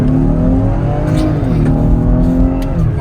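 A 2023 Lincoln Aviator SUV with a twin-turbo, roughly 400-horsepower engine pulls hard under acceleration, its loud, steady engine drone rising in pitch and filling the whole stretch from close by.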